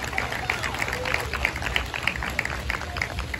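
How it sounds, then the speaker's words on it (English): Outdoor Veterans Day ceremony crowd at a theme park applauds a high school JROTC group, with moderate, scattered clapping throughout a short stretch and a faint background hum. "Please join me in giving a big round of applause to Monica Rose and the Jesse Bethel High School JROTC."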